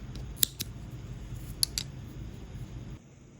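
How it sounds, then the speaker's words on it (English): Scissors cut through crochet yarn in a few crisp snips, two pairs of quick close clicks spaced about a second apart, faint and close against a quiet room. "And then I'm gonna cut my yarn."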